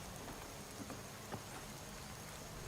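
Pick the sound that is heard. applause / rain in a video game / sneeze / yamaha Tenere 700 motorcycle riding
rain in a video game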